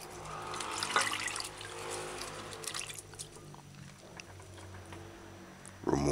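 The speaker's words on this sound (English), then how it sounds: "And wash the broccoli florets properly." Broccoli florets are washed under splashing water, with uneven sloshing and trickling that is fairly faint and close, and a louder splash at the very end.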